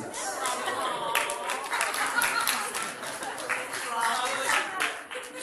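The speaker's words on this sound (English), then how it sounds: "So let's give a huge round of applause." Wedding guests clap and applaud steadily at a wedding event after a speed painting is finished, a dense crowd patter running the whole time with scattered voices and light chatter mixed in.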